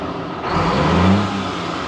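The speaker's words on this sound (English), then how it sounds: "Accelerate up to about 1800 RPM and let off the throttle" Diesel engine of an ERF truck revving up toward about 1800 RPM, a short, steady rise in engine roar that eases off after a second or so.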